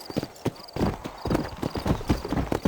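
A horse in Red Dead Redemption trots with quick clip-clop hoofbeats on a dirt path, close and steady, with a short whinny amid the game's ambient sound.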